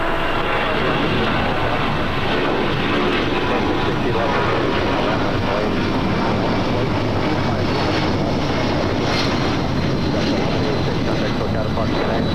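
Airliner taking off from runway 25 right at Los Angeles International Airport, a loud, steady engine roar filling the whole stretch, with radio chatter and a voice talking over it.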